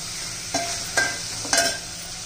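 Tomato sautéing in hot oil for masale bhat, a continuous sizzle broken by three distinct scraping stirs of a spoon through the pan.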